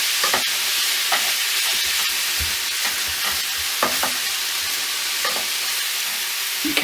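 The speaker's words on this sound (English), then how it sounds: "bung the onions in. And then you just keep moving those around for 3 or 4 minutes." Onions for keema matar sizzle in a pan under a steady frying hiss, broken by regular scrapes and knocks as a utensil keeps them moving.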